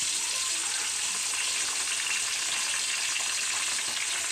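Green chillies frying in oil in a pan for a Hyderabad biryani, a steady, even sizzle that holds constant throughout with no talk.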